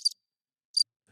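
Cricket chirps used as a comic sound effect, two short, bright trills separated by silence.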